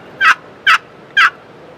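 Wooden box call worked by hand to imitate a gobbler turkey's yelp: three short, coarse, raspy notes in an even rhythm, loud and close with nothing else heard.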